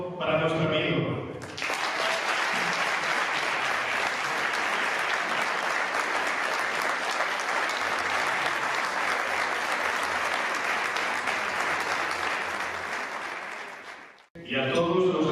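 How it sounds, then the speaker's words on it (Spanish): Warm, sustained applause from a large crowd at a tribute ceremony for a former socialist mayor in Jaraíz de la Vera, steady and full for about thirteen seconds, with speech briefly before and after. "no hay mejor manera de comenzar este acto que con un caluroso aplauso para nuestro amigo"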